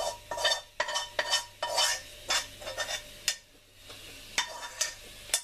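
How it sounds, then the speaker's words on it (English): Meat and its juices, including some slightly burned bits, dropped all at once into a hot cooking pan: a run of sharp clattering, scraping bursts from a utensil against the pan over a faint sizzle, with brief pauses between strokes. "drop in the meat and its juices all at once"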